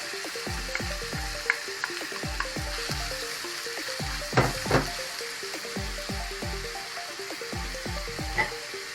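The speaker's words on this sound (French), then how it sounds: "شويه ديال الزيت اللي غادي نشحر فيه هاد الخضيره ديالي" Carrots and white cabbage fry in hot oil for shrimp spring rolls, a steady close sizzle with a repeating bubbling pulse and a few sharper crackles and pops.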